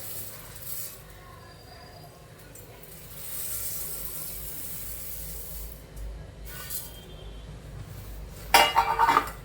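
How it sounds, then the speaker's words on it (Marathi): Puffed rice (murmura) poured into a pan of fried green chilies and garlic with turmeric and chili powder, a soft rustling hiss through most of the clip, then a brief louder scraping clatter near the end. "आता आपण मुरमुरे त्यामध्ये टाकून घेऊया"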